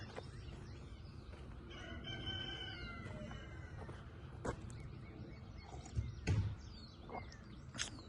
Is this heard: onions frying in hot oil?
no